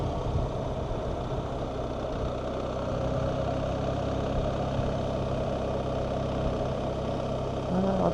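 A BMW R1300GS motorcycle engine runs at low speed with a steady, even drone, close and constant, with wind rush and a rider speaking faintly now and then.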